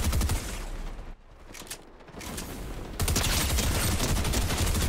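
Rapid bursts of combat SMG fire from the Fortnite video game, loud and dense, easing off briefly mid-clip before returning with a sustained heavy barrage.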